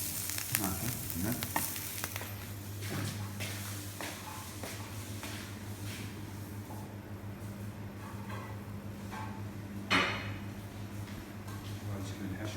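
A stuffing mixture for diet stuffed chicken breast is mixed by hand, a close, wet squelching and stirring with clicks, under a person's speech.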